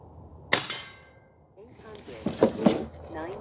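A regulated Airforce Talon SS airgun fitted with a homemade plenum fires a pellet: one sharp, loud crack, then quieter handling clatter and a couple of small knocks.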